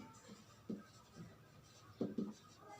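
Chalk or marker writing on a classroom board makes a few faint, quiet taps and scrapes in short strokes, close by, with no talk over them.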